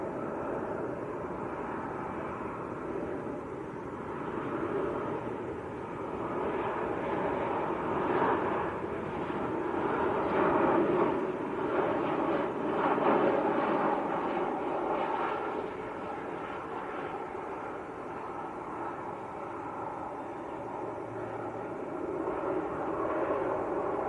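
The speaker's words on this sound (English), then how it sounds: "Ryanair on finals" A Ryanair airliner on final approach rumbles in the distance, a broad engine drone that swells in the middle and then eases off, moderately loud and without voices.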